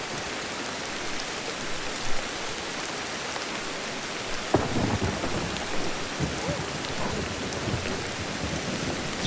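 Steady rain pours in the video game Ancestors: The Humankind Odyssey while thunder cracks suddenly midway and rumbles on through the downpour, with no talking.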